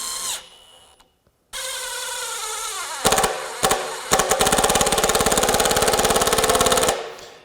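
A DEWALT DCF845 impact driver whirs up close and loud, stops for a moment, then fires a few short bursts before settling into a sustained, rapid hammering that runs for about four seconds and winds down.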